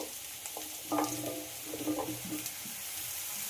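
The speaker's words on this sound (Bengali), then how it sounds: "এবার কেটে রাখা কুমড়োটা দিয়ে দেব" Potatoes, onion and chopped pumpkin frying together in a pan, a soft steady sizzle with a few brief stirring scrapes, fairly quiet and close, no talk.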